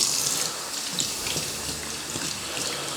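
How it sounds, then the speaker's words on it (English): Hot water runs steadily and splashes through a strainer to melt ice, a continuous hiss of flowing water from close by, with no voices. "I'm going to put hot water through this to melt all the ice"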